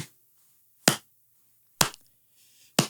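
Three sharp, isolated hand claps spaced about a second apart, close and crisp, with silence between them.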